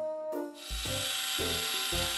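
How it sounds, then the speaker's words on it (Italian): A power screwdriver drives screws into a wooden beam in short repeated bursts of whirring and grinding, each burst tailing into creaks from the wood, set against a constant bright background hiss. "Stella, non è così che si usa l'avvitatore!"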